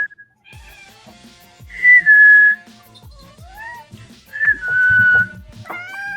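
Someone whistles several drawn-out notes, some steady and some sliding, close up, with light clattering and shuffling between them.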